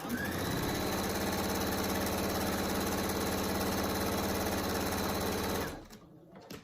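A sewing machine stitching down the short side of a flat fabric bat wrap, a steady close mechanical whir running continuously for several seconds before stopping abruptly.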